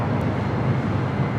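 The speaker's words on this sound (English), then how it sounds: "Aer Lingus A330-200 coming in from Dublin, flight 69 next up." An Aer Lingus Airbus A330-200 arriving at LAX from Dublin gives a steady, even jet roar that stays constant throughout.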